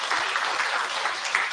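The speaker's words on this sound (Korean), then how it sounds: "합창단 큰 번 한번 박수 부탁드리겠습니다" An audience at a Buddhist temple New Year prayer service claps for the choir, a dense, even burst of applause filling the hall at close range.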